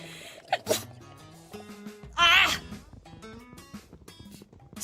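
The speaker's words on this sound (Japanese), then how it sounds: "くしゃみが飛び出てしまいました。" A single sharp human sneeze bursts out loud and close midway, set against a background of music and brief voice sounds.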